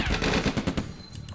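Rapid continuous cannon fire in a Stalingrad-set war video game, a dense, loud burst of repeated shots hammering for over a second before thinning out with a few sharper cracks at the end.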